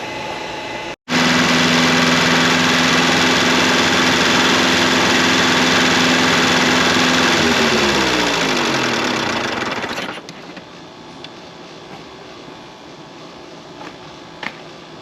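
An Opel car engine on its first run after an inlet manifold repair, starting abruptly and running loud and steady for several seconds, its pitch dropping as it winds down, then a quieter background.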